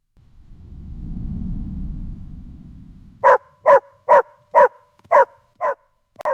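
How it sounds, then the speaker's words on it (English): A dog barks close and loud in a home, a rapid run of seven sharp barks in a steady rhythm, following a few seconds of low rumbling noise. "The dog is making a lot of noise."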